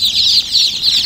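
Fayoumi chickens and a rooster call loudly and close by, with dense, continuous high clucking and peeping in rhythmic waves and no talk.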